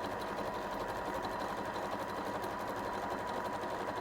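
A sewing machine running steadily through a zigzag stitch, a continuous close whirring drone with a fine rapid mechanical pulse that never pauses.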